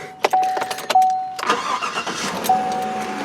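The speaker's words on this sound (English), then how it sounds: "It idles nice and quiet." A 2016 GMC Sierra Elevation Edition pickup engine catches and settles into a quiet, smooth idle, with a few sharp clicks at the start and soft electronic chime tones sounding over the low rumble.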